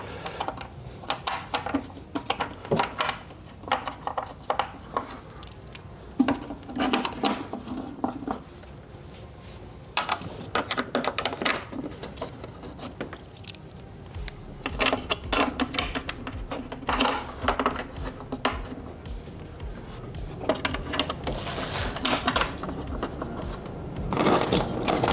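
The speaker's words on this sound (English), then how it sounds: "We're going to start putting bolts back in." Metal bolts being threaded and set back into a valve cover on an FL5 Honda Civic Type R, a run of small clicks, taps and rattles in irregular bursts, close and moderately loud with short quiet gaps.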